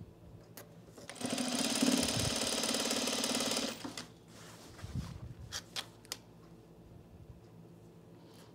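A sewing machine runs in one burst of rapid, even stitching along a men's utility jacket casing for roughly two and a half seconds. Quiet fabric handling and a few taps follow.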